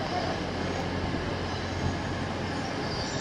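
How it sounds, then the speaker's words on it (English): An LNER Azuma Class 800 train arrives at Leeds station, a steady rolling roar of wheels and traction noise at moderate distance with faint high squeals, no one speaking. "And here comes an Azuma."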